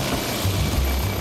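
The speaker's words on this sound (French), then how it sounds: "Vous allez aller à l'hôpital en hélicoptère." Steady, loud rotor and engine roar from a medical evacuation helicopter at an emergency scene during a race, filling the whole moment without any talking.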